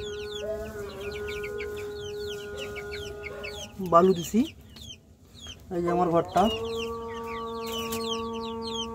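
Several young Brahma chickens cluck and chirp repeatedly inside a sand-floored coop, with a louder burst of squawking partway through while someone speaks nearby.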